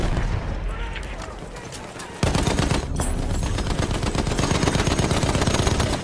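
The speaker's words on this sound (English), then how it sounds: "We're both shooting each other and we're both missing." Sustained automatic gunfire from a machine gun in the shooter game Battlefield 1, loud, dense and continuous, jumping louder partway through with mixed shots and blasts.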